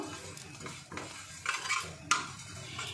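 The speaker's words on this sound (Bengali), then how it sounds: "এই তিলটা শুধু কড়াইতে একটু নেড়ে নেব, একটু ভেজে নেব।" Sesame seeds are dry-roasted over medium-low heat in a pan, stirred and scraped, with soft rustling, light clinks of a utensil and a faint sizzle.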